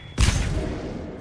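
A single heavy burst of gunfire in Mass Effect 3 booms loud and close, then trails off in a rumbling decay, with a second hit starting right at the end.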